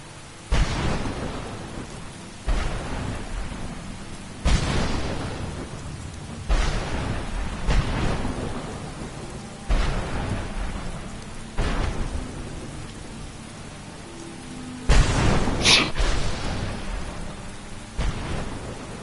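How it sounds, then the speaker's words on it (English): Heavy rain pours steadily in a Skyrim game world while loud rolls of thunder boom repeatedly, roughly every two seconds, with a sharp crack near the end; no one speaks. "Is that thunder?"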